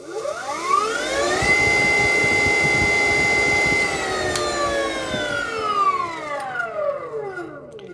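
A 60V 2000W Datai BLDC motor spins in reverse mode with its Hall sensor disconnected, a loud steady electric whine holding pitch for several seconds before winding down and fading near the end.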